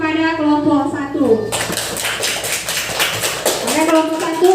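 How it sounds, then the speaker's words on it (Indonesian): A group of schoolchildren in a classroom breaks into a burst of clapping that lasts a few seconds, with a teacher's voice talking just before and again as the applause fades. "beri tepuk tangan kepada kelompok 1"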